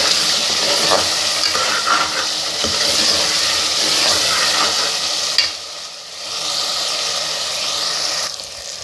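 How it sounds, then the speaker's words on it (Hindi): Mutton pieces (gosht) sauté in a hot pan with a loud, continuous sizzle and steady stirring, the frying briefly dipping in intensity midway before building again. "मैं गोश्त की बुनाई बहुत अच्छी तरह से करूँगी आज"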